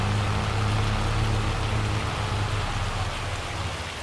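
Steady rain in a driving video game, a constant broadband hiss of falling drops with a low engine-like hum beneath, continuous and fairly loud throughout with no talk.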